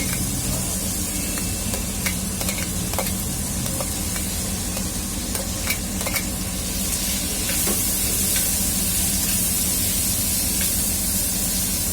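Onion frying in a pan for Visayas-style mung bean soup gives a constant loud sizzle and hiss. Small crackles and pops sound throughout, with no talk over it.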